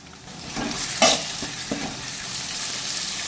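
Tomatoes with a little turmeric sauté in hot oil in a pan for a Kerala-style gingelly oil chicken gravy, a soft steady sizzle broken by a few sharp stirring scrapes and clatters, fairly quiet and close.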